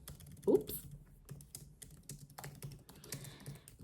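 Typing on a computer keyboard while working in ChatGPT, an irregular patter of soft close key clicks with a few louder taps and short pauses, heard alone.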